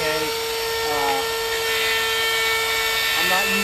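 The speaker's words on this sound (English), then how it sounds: "So we're going to chamfer this edge." A handheld power tool chamfers the edge of an alcohol-ink epoxy board outdoors, giving a steady high-pitched whine that runs throughout at close range, with brief shifts in pitch as it bites the edge.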